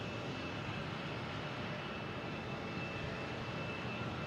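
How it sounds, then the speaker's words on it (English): An airliner landing at Boston Logan International Airport, a steady broadband jet roar that holds at an even, fairly loud level throughout with no voices. "We got this one landing."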